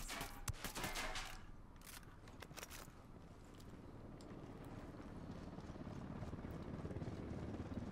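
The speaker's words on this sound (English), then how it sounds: "Chopper incoming." A helicopter approaches in the Ghost Recon Wildlands video game, its rotor chop building from a faint rumble to a steadily louder drone, after a burst of sharp gunfire at the start.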